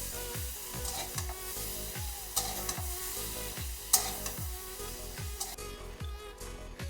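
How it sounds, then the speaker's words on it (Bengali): Bitter gourd fries in a pan with a low, even sizzle, punctuated by regular scraping strokes of stirring about twice a second, with no voices. "করলা একটু ভেজে নিয়েছি, এখন আমি তুলে নিচ্ছি"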